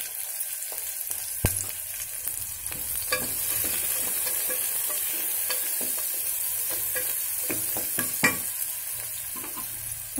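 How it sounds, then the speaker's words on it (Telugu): Onions frying in a pan for a pumpkin coconut masala, a steady close sizzle with occasional sharp clinks and scrapes of stirring, no voices. "ఆనియన్స్ వేగుతున్నాయి కదా"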